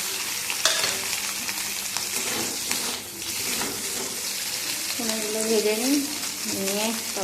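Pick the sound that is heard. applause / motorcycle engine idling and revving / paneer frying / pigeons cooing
paneer frying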